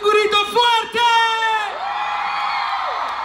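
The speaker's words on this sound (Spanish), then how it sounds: "que se escuche un grito fuerte" A crowd at a Día de Reyes (Epiphany) celebration in Pátzcuaro, Michoacán, lets out a loud collective whoop and yell, with several rising shouts layered over a sustained roaring cheer up close.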